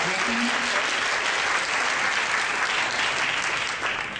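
Steady audience applause fills the whole stretch, dense even clapping from a large hall crowd at a continental theology congress, with no talk over it.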